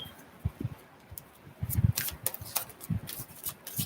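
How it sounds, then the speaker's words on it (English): Two combined decks of playing cards are shuffled by hand, giving soft riffling and slapping bursts in short irregular runs, close and quiet, with no voice. "these are two combined decks and it's hard to shuffle them"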